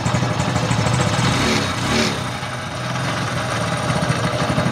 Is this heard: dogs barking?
no